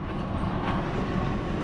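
A train passes on railway tracks in a dense, steady rumble and roar that stays loud for the whole short stretch with no breaks.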